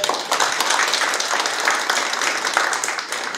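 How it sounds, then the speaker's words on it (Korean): Audience applause at a town meeting with the city mayor in Icheon, Korea: a dense, steady wash of many hands clapping close by, sustained evenly throughout with no speech over it. "강호동 여러분 우리 시장님 정리 박수 부탁드리겠습니다."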